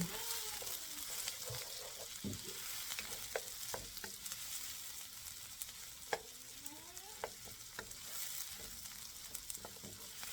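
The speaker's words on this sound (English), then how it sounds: "So we're gonna cook the onion, and then we'll wait until it become translucent or lighter in color." Onion sautéing in a pan makes a soft, continuous sizzle at moderate distance, broken by regular spatula scrapes and taps as it is stirred, with no talking.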